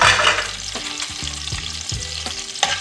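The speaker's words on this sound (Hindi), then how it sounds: "हम फ़िलहाल मिर्चें फ्राई कर रहे हैं, ये फ्राई हो जाएंगी।" Chilies frying in hot oil for a Pakistani daal chawal with tomato chutney give a loud, steady sizzle with a crackling hiss, while repeated scraping strokes of a spoon stirring the pan keep a rhythm; no one speaks.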